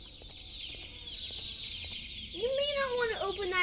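Mini Opila birds in the video game Garten of BanBan 2 chirp and cluck in a faint high twittering stream, then a louder rising call near the end, with no speech.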